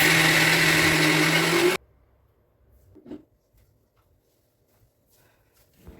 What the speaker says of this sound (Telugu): మూత పెట్టి మెత్తగా మిక్సీ పట్టుకోవాలి.